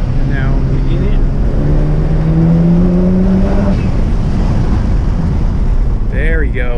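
Mazda RX7 with stock twin turbos accelerates hard through the gears, heard from inside the car: a rising engine note climbs beneath heavy, constant wind roar.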